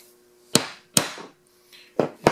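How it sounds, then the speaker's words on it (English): Hammer striking a flat-bottomed nail punch to countersink small protruding nails in wood: four sharp, loud metallic taps at uneven intervals, close by, with brief ringing between hits. "When you got small nails that's protruding and you need to countersink them to put some putty over them, get you a nail punch."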